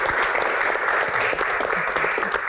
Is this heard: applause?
yes